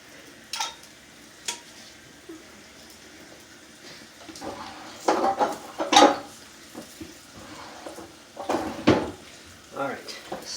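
Metal pans clunk and scrape as they are set onto a home stove, with scattered knocks and sharp clatters over a faint background sizzle.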